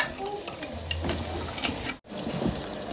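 Mutton dropped into a hot pot for biryani, sizzling and frying loudly while a spoon stirs and scrapes, with brief clatter and a short cut near the end.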